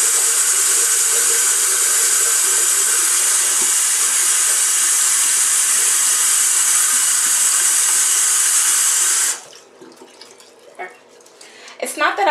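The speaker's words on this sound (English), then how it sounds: "Rinse my hands off" Steady, loud hiss of tap water streaming while hands are rinsed, running continuously for about nine seconds before cutting off abruptly, followed by quiet handling noises and a faint drip or splash.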